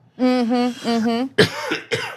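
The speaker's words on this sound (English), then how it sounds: "As I cough." A strained, voiced throat sound is followed by two short, harsh coughs close to the microphone.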